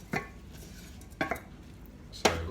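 Three separate clinks of a utensil against a pan while cabbage and broccoli are stirred and heated, each short scrape-and-knock spaced about a second apart over a quiet background.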